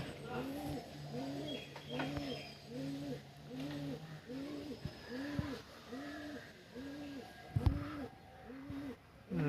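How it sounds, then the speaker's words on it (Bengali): Punjabi and Kamagar pigeons cooing in a steady repeated rhythm, fairly faint and distant, with a brief louder knock near the end. "আকাশ ক্লিয়ার হওয়াতে পায়রাগুলো আবার হাইট নিয়ে নিয়েছে"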